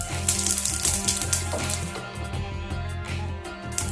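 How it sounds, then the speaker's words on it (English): Cumin seeds crackle and sizzle in hot groundnut oil, a bright continuous frying hiss with tonal background music running underneath. "And now the oil seems to be nice and hot. In this I will add nearly a quarter teaspoon of jeera"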